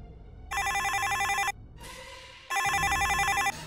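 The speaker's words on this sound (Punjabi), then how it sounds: "Mandeep the phone?" A telephone rings loud and close in two long electronic bursts separated by a short pause, with a quiet room in between; set in a Punjabi family drama scene.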